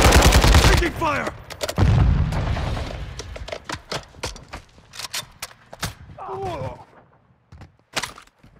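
Gunfire from the video game Call of Duty: Modern Warfare II in DMZ mode: loud bursts of shots and sharp cracks crowd the opening, then scattered single shots and short volleys continue, with brief voices under the firing.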